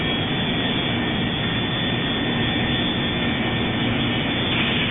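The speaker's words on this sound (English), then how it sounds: "Left engine start." Jet engine spooling up on the left side of a fighter aircraft in a flight simulator game, a steady, loud, broadband roar with a faint whine that holds constant throughout, with no voices.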